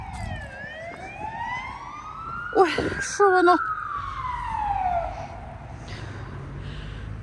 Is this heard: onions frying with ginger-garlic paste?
no